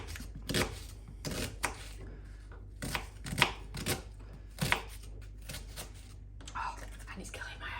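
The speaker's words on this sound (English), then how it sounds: "So then once you've chopped your onion" A knife chops an onion on a board in a home kitchen, giving scattered, fairly quiet close taps at an uneven pace with faint background noise.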